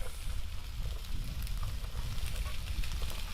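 Onions and carrots sizzle in a hot stir-fry pan for instant noodles, a steady, dense crackle holding at an even level throughout with no pauses.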